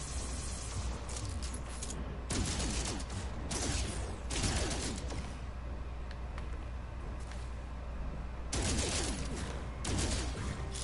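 Rapid gunfire from a weapon in the space exploration video game No Man's Sky, with bursts of shots that repeat through the clip over a steady low rumble and no talk.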